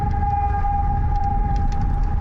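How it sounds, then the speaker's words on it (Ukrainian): Air raid alert siren sounding during a fishing trip on a wild lake in Ukraine, a steady loud sustained wail holding one pitch throughout over low background rumble, with no talking. "повітряна тривога"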